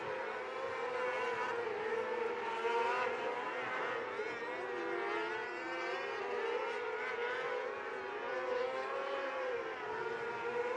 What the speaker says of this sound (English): Emmy Hughes racing in third. And Gunnar Bowden racing in fourth.